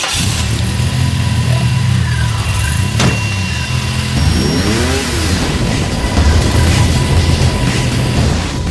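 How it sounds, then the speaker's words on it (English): A tuned car engine growls loud and close, a deep rumbling idle with throaty revs rising and falling, no voices. "The first thing you notice about this car is the engine has a much meaner growl."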